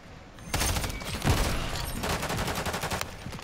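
Rapid bursts of automatic gunfire from the shooter game Call of Duty: Modern Warfare III crackle loudly and close, continuing in sustained volleys with brief gaps across the whole stretch.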